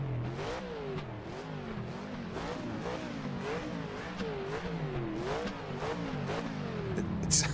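A modded historic race car engine revs up and down in a rapid rhythmic wail while the car slides around a corner in a sportscar racing video game, loud and close with no talking.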